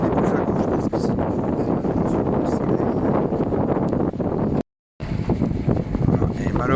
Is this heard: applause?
no